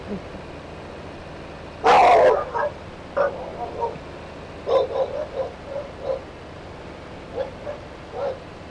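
A pet dog barks during a multiplayer gaming session at home, one loud bark followed by a run of softer, irregular yips and short barks spread across the clip.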